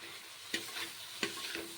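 Spice mixture frying with potatoes in a pan, Bengali home cooking with lentils and eggs: a steady low sizzle under two sharp stirring scrapes about a second apart, close and alone with no talk.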